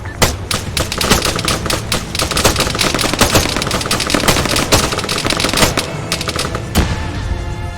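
Rapid machine-gun bursts and scattered rifle shots crack in the ARMA 3 combat game, loud and close in uneven volleys with short gaps between strings of fire.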